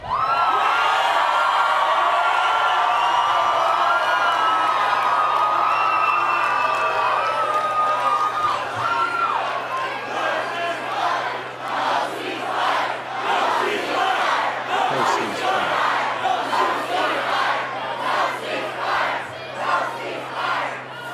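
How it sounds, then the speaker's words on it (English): A large crowd at a March for Israel rally chants "no ceasefire" together, a dense roar of voices that breaks into rhythmic, repeated shouted bursts. "This is the entire crowd chanting no ceasefire"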